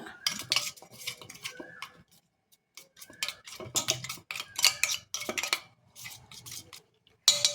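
Tamarind pulp being mixed by hand with cumin powder and salt in a bowl, giving bursts of close, crisp clinking and scraping with short pauses between, no talk.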